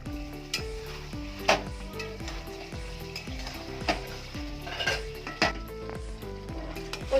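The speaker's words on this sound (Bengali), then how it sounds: "কচু লতিটা একটু নেড়ে দেবো ভালো করে" Kochur loti, taro stolons, cooking down in a pan while being stirred: a low bubbling sizzle under repeated rhythmic scrapes and light clinks of a spoon against the pan.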